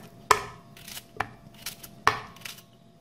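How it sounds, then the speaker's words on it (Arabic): A knife chopping a cucumber into pieces for a blender drink, three distinct knife strikes against a cutting board with softer taps between them, close and clear with no talking. "نقوم بتقطيعه إلى قطع"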